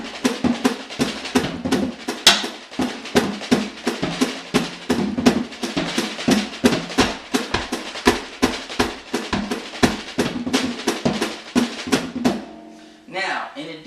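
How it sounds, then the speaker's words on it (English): Drum toms played in rapid melodic phrases, a dense stream of close, punchy hits shifting between pitches, loud and continuous for about twelve seconds before stopping with a short ringing tail. "create phrases using the melodies of the toms"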